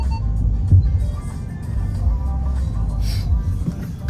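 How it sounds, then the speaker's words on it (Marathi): A car's engine rumbles steadily at close range as it is driven out of its parking spot, a low continuous drone with slight swells and no talking. "तर हा गाडी काढणार, ही वाली काढतोय गाडी तो"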